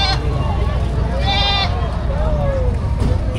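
Goats bleat in a wavering, nasal cry amid a noisy crowd of livestock and murmuring voices at a cattle, goat and carabao market in Padre Garcia, Batangas, one call rising clearly near the end.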